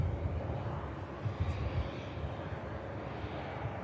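A TAP Air Portugal airliner touching down at Manchester Airport, a steady distant roar of engines and rushing air, fairly faint and continuous with no voices.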